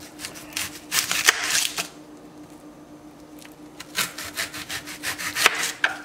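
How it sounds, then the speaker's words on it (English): A knife saws through the tops of onions on a board for a Bosnian stuffed-onion dish, several close, crisp scraping strokes in two bursts separated by a quiet pause, with no talking. "first thing is I'm going to cut these onions"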